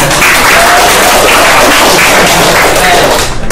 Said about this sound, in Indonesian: tepuk tangan buat Akna